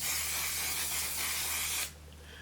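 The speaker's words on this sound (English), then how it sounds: "just spray my face." Makeup setting spray misted onto the face, a single steady hiss lasting about two seconds and then stopping abruptly, close and fairly quiet.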